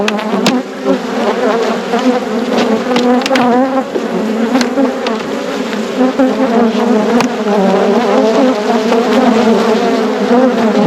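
Honey bees in a hive opened during winter buzz loudly and continuously close by, a dense droning hum with individual bees zipping past and a few faint knocks from handling the box.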